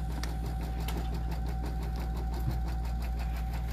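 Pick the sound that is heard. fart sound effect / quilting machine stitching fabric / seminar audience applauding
quilting machine stitching fabric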